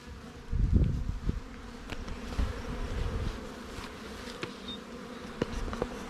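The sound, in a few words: honey bees buzzing during hive inspection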